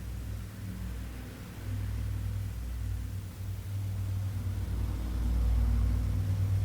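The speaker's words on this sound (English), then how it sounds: "It's a car, makes noise" A car passes outside as a low, steady rumble that swells gradually and stays distant and muffled, with no voices over it.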